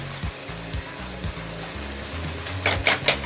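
Pasta cooking in a pan with Szechuan sauce and pizza pasta sauce, a low steady sizzle and bubbling throughout, followed by a few sharp clinks of a utensil against the pan near the end.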